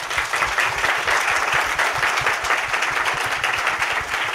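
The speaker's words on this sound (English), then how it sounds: "Let's give our panel a round of applause." Steady, dense applause from an audience at a panel discussion at the Grammy Museum, loud and sustained throughout with no gaps.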